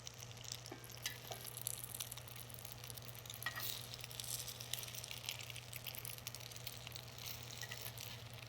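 Wontons frying in a pan until crispy on both sides, a steady soft sizzle and crackle at moderate distance under a constant low hum, with no talking.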